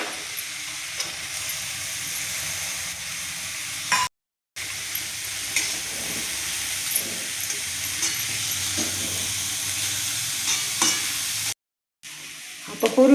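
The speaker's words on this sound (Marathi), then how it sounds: "आता हे कलसून घेऊ अशी गोबी. मसाला सारा त्याच्यात मिक्स झाला पाहिजे." Cabbage with soaked chana dal and masala is stirred in a hot pan, a continuous close sizzle with scraping spatula strokes, briefly cut off twice.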